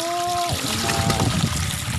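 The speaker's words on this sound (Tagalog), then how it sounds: "Buhos natin sa palanggana mga kulay." Water poured into a basin makes a steady, close trickling and splashing wash that follows a brief tonal hum at the start, with no voices over it.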